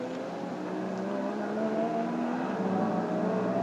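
Race cars at the start of a VLN endurance race at the Nürburgring, including Porsche 911s, roar steadily on a drying track, a dense, sustained engine drone heard from a distance with no voices.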